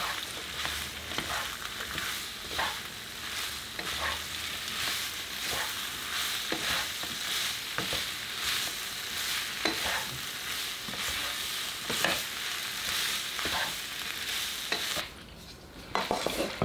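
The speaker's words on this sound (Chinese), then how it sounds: "再放入辣椒和菠萝，翻炒2下，沾沾热气儿，马上装盘。" Pork with chili and pineapple stir-fries in a hot wok, a steady loud sizzle under repeated rhythmic scraping and tossing strokes, close up and without talk, easing off briefly near the end.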